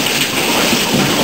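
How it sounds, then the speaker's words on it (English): Hailstorm with rain and thunder in El Paso, Texas: a steady, loud, dense wash of rain and hail hitting surfaces, with low thunder rumble underneath throughout. "7-8 minute hailstorm"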